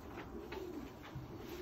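A racing pigeon coos softly inside a loft, a few low, faint murmuring calls repeating against steady background noise.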